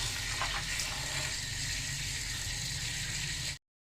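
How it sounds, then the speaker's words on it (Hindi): Saag greens being washed in water, a steady broadband splashing and running-water wash that carries evenly for about three and a half seconds, then cuts to silence. "अब साग को ना अच्छी तरह से धो रहे हैं।"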